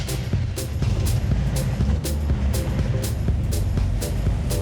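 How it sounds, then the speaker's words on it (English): A black 1969 Chevy Camaro V8 engine turns over and idles with a deep, steady rumble, while a sharp regular tick repeats about twice a second and a faint voice runs underneath. "a black '69 Chevy Camaro, and he just had to hear it turn over."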